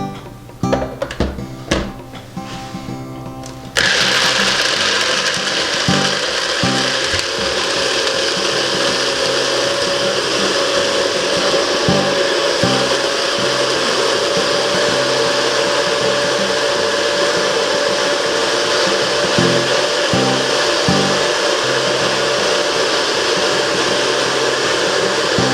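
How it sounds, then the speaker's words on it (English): A blender whirs loudly and continuously, blending nuts and water into nut milk, starting abruptly after a few seconds of clattering and knocking and then holding a steady high motor roar with faint thumps underneath. "So let's go ahead and blend that stuff up."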